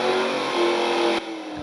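An off-road car revs hard through a big mud hole near Brunswick, Western Australia, its engine roaring loud and steady before the revs drop abruptly toward the end, with no talk.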